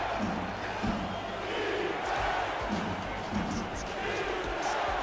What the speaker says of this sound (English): Ray Bentley says they pumped the stadium with artificial crowd noise out of Boise.